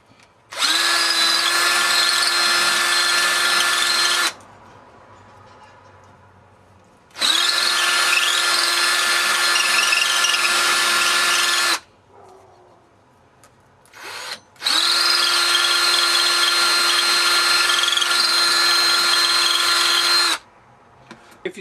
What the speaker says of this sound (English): clean out the chambers using a little dowel rod with a little slot in it and a small piece of sandpaper